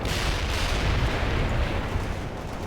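Medium artillery firing in World in Conflict, a dense, loud roar of rumbling blasts and crackling bursts running together across the whole short stretch.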